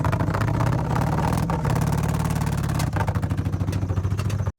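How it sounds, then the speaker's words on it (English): A Dodge Caravan with no power idles roughly, its engine throbbing in an uneven, lumpy rhythm with a couple of stumbles, close by and alone. "Neighbor brings his Dodge Caravan over, complaining there's no power and it sounds awful."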